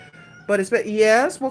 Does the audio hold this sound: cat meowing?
yes